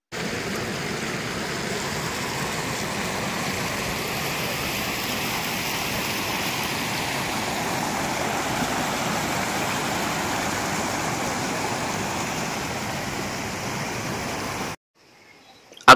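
A steady, loud rush of water tumbles over rocks at a stream in Araku, where families and friends slide down the flow. The broad, even roar continues unbroken, then cuts off abruptly near the end.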